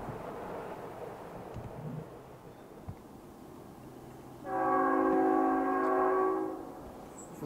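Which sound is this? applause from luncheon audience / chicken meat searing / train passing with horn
train passing with horn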